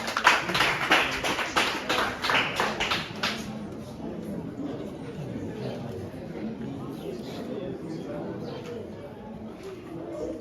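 An audience at a basic schools science and maths quiz final claps for a competing team, with a burst of loud rhythmic claps for about three seconds before fading into a murmuring room.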